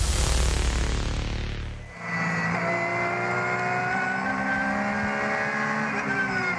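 The Dunlop Motorsport Porsche race car No. 17 of Sven Muller at the Nürburgring, climbing the hill out of Breitscheid on an in-lap. A loud broadband roar suddenly drops into a steady, droning engine note that holds on.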